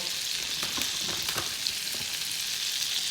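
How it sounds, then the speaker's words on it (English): Meatballs frying in hot oil in a pan, a continuous bright sizzle with a few crackling pops, steady and close without any voices. "just put them in carefully into the hot oil"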